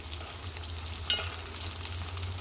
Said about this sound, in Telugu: చూడండి, కాకరకాయ అంతా ఫ్రై అయిపోయింది. ఇలా ఫ్రై చేసుకోవాలండి